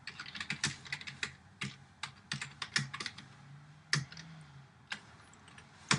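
Code is typed on a computer keyboard in quick, irregular bursts of close, crisp key clicks with short pauses between, quiet and with no talk.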